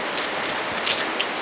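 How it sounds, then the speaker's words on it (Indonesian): Steady rain pours down on a rainy day, a dense, even hiss of drops pattering on surfaces throughout, with a few slightly louder splashes standing out now and then. "Jadi kebetulan hari ini sedang hujan."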